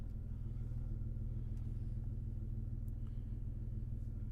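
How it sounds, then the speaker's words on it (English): A steady low mechanical drone hums continuously, with a dense rumbling throb like a small motor running inside a vehicle, fairly close and unchanging: an air compressor cutting on in a Jeep Cherokee XJ. "Your air compressor, you can hear that cutting on."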